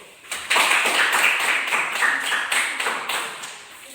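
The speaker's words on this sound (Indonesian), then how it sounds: "Tepuk tangan dulu." A small classroom group claps hands after a student presentation, a brisk rhythmic run of claps, close and fairly loud, lasting a few seconds.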